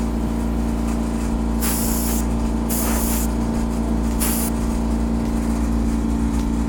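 Three short hissing bursts of an airbrush spraying paint through a freehand flame stencil onto a steel car panel, each about half a second, over a loud steady compressor or engine drone; no talking.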